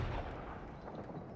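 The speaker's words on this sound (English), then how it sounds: "My towers have cannons." Cannons on defensive towers fire in a Shogun 2 Total War battle, a dense, rumbling boom of artillery that fills the moment as a continuous low roar, heard without speech.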